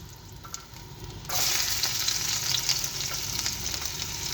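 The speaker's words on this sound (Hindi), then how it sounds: "कुकिंग ऑयल हमारा गर्म हो चुका है। सबसे पहले हम इसमें लहसुन शामिल करेंगे" Garlic drops into hot cooking oil in a frying pan, and a quiet background hiss jumps to a loud, bright, crackling sizzle that carries on steadily up close.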